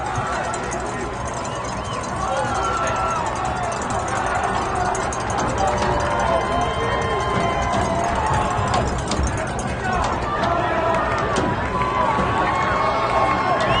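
A loud crowd at a boys' high school soccer state championship fills the air with a constant roar of voices and cheering, with music faintly underneath and scattered nearby shouts.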